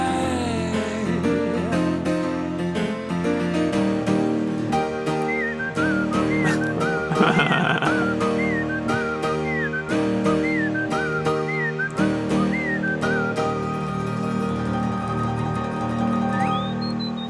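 A whistled solo in a song rises above a full band: short, precise, looping whistled phrases repeat over steady piano, bass and drums, with no voices.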